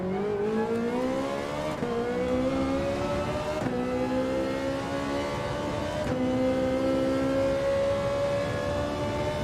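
Porsche GT race car engine in Gran Turismo 7 revving loudly and steadily, pitch climbing through gear shifts with brief dips between, close and continuous with no talk.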